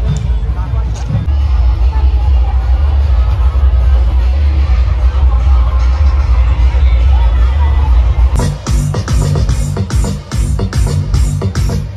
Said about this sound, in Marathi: खूप गर्दी आहे पुढपर्यंत